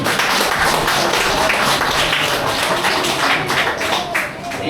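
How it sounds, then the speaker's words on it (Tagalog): Church congregation clapping their hands together, a dense, continuous patter of many palms, fairly loud and steady throughout. "Pumalakpak ang mga mayayaman."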